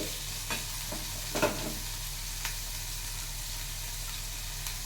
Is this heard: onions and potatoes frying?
yes